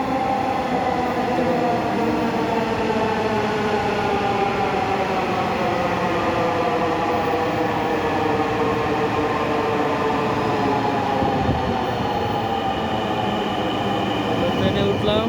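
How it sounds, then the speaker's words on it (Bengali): A metro train pulls into a station platform with a loud, continuous rumble and rushing wheel and motor noise that fills the whole stretch at a steady level. "ট্রেন আসতেছে।"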